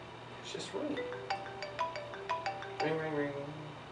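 A phone ringtone plays a repeating electronic melody of bright, evenly spaced tones, fairly close, with a faint steady hum underneath.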